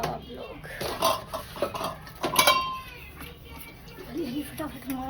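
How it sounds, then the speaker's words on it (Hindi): Dishes and utensils clatter and clink while being scrubbed by hand, in irregular knocks and scrapes, with children's voices and talk nearby. "बन्ना जी बर्तन धो रही हैं"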